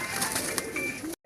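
A pielakha pigeon, a fine flying breed, coos steadily up close for about a second before cutting off abruptly, with no voices over it.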